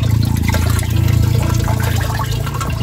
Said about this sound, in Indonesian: ini akan disiram dulu seperti ini lur